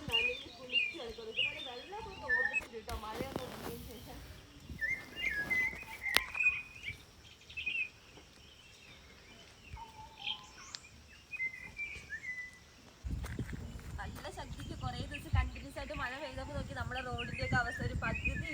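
Assorted birds chirp and whistle in short, high calls over a quiet outdoor background, while a person talks at moments and a rumble rises near the end.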